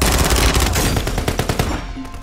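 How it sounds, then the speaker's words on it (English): Rapid SMG gunfire in a shooter video game, dense overlapping bursts of automatic shots, loud and close, continuing for about two seconds before thinning out. "I'm getting shot like crazy"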